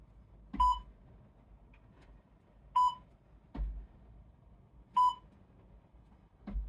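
A workout interval timer gives short electronic beeps, three sharp tones spaced about two seconds apart, alternating with soft low thumps, fairly quiet in an otherwise calm room.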